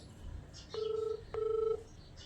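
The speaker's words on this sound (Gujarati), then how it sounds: "ફોન રિંગ જાય છે" Ringback tone on a mobile phone call: two short electronic ringing pulses in quick succession, fairly faint over a quiet background.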